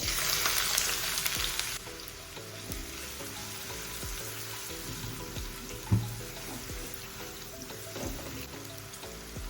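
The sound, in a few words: chopped onion frying in oil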